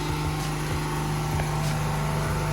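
A petrol generator running steadily nearby, a constant buzzing drone with a dense rattling texture, fairly loud with no pauses.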